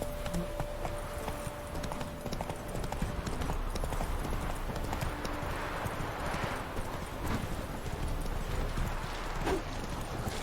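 Hooves of the horse in The Witcher 3: Wild Hunt pound in a fast continuous galloping rhythm, close and prominent over game ambience throughout.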